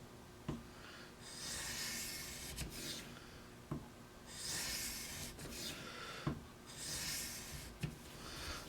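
Pull strokes drawn across a blade on an Edge Pro sharpener to clear a burr: a few long, soft, hissing scrapes, each starting with a faint tap, repeated in a slow steady rhythm at close range and low level.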